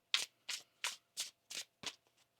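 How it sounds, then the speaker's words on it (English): A deck of tarot cards is shuffled by hand in six crisp, evenly spaced riffling bursts, close and quiet, with near silence between them and no talking. "One more shuffle here, please, and thank you."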